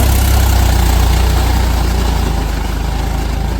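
A tractor engine running under load rumbles loudly and steadily at close range, a deep continuous drone that eases slightly toward the end.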